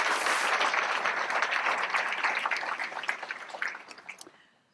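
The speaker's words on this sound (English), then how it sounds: "Let's just give him a round of applause, even if he's not here, to welcome him to Buena Park" Audience applause at a Buena Park State of the City 2022 event, a dense wash of many hands clapping that holds steady, then thins and fades out over the last second.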